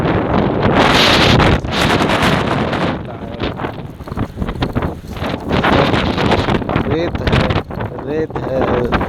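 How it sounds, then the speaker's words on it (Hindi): Strong wind blows outdoors in Muscat, Oman, roaring and buffeting the microphone in loud, uneven gusts that rise and fall. Someone speaks under the noise. "ऐसा है, बहुत हवा चलता है ये, इसी में हम लोग काम करते हैं।"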